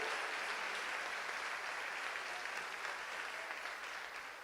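A church congregation applauding during worship, a dense, steady wash of many hands clapping that holds evenly throughout and tapers slightly at the end, with no clear speech over it.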